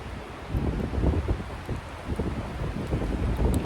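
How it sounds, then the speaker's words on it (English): Gusty wind blows outdoors beside a cooking setup with an ethanol burner and pizza stove, making a loud, rumbling buffet on the microphone that swells and eases in uneven gusts. "You hear the wind?"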